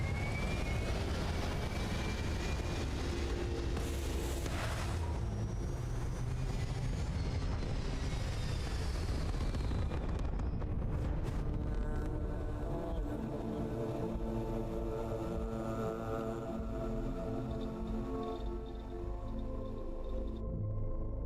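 A spaceship lifts off in the video game Starfield, a loud sustained roar and rumble that builds, then shifts into a steadier throbbing drone as it climbs.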